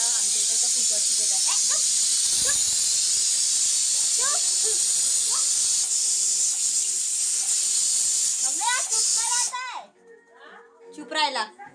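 A pressure cooker vents steam in a loud, sustained high hiss that cuts off abruptly near the end, with voices and someone talking underneath and after it.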